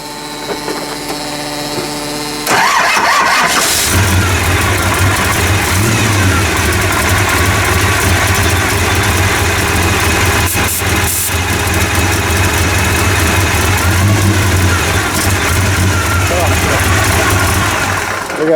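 A truck engine on nitrous test runs loud and steady at idle, starting abruptly and holding a continuous rumble with slight revs, while people talk over it.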